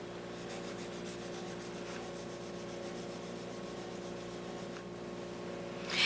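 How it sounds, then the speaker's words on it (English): Steady rubbing as a photo transfer is burnished face down onto hot, melted Friendly Plastic pellets, a continuous close scraping texture at even level with a slightly louder scrape at the very end. "I'm going to place it face down onto the melted pellets. Now this is while they're hot, and I'll burnish this down."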